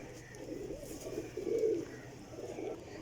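Young racing pigeons coo softly in a loft, a few low rolling calls close by with steady background noise.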